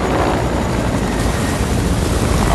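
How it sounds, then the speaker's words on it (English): A helicopter in the Fortnite video game roars overhead, a loud, dense, continuous rotor and engine wash throughout, with no talk. "Oh my gosh, another helicopter."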